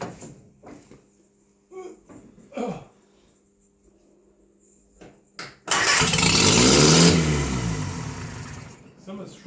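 A Bedford CA truck engine, newly rebuilt, cranks and catches to a loud rough run for several seconds before dying away, after scattered clunks and brief voices.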